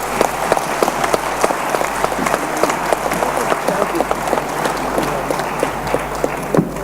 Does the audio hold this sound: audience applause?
yes